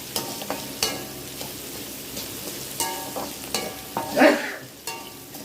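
Onions being sautéed in a pan for a mango and coconut-milk fish curry: a low sizzle under repeated spatula scrapes and knocks at uneven intervals, with one louder clatter near the end, close by.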